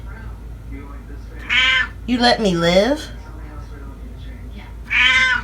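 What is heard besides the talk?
cat meowing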